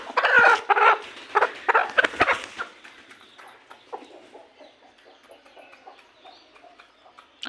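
Hens cluck loudly in a village farm setting, several close bursts in the first few seconds, then quieter scattered clucks and soft rustling continue.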